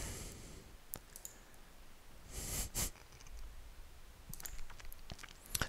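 Computer mouse clicks while formatting a graph in Microsoft Word: a few sharp, isolated clicks spread out over quiet room noise, with a soft rustle in the middle.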